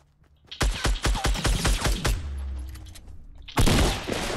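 Shotgun fire in the Fortnite Battle Royale video game: a rapid run of loud, close shots, a short pause, then another loud blast.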